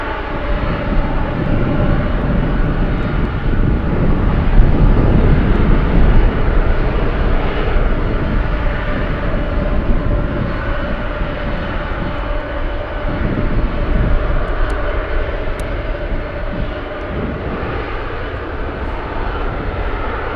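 A KC-135 Stratotanker at Anchorage airport on a gusty day, a loud continuous aircraft engine roar that holds steady throughout, close and dominant with no talk.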